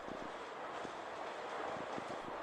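A train rolls over rails as it crosses a small bridge, a steady broadband rumble with soft periodic wheel thumps, heard from on board with no talking.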